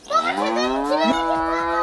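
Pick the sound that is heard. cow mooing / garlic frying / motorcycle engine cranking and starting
cow mooing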